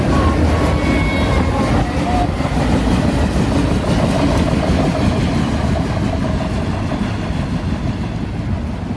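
CSX Q238 autorack freight train with big Kansas City Southern autoracks rolling past steadily and loudly, a continuous low rumble of wheels and rail noise with engine drone throughout, no pauses.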